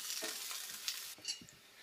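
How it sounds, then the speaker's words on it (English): Chopped onion fries in hot oil for a chicken tikka biryani gravy. A quiet, short sizzle plays with a few soft stirring clicks and scrapes. "Now I am going to put the chopped onion, fry it till it gets light brown."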